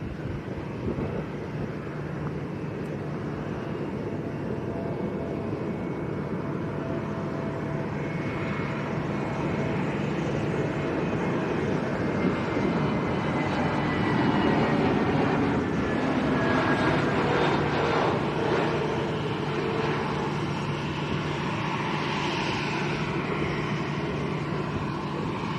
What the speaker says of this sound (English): EasyJet landing in back with a backwind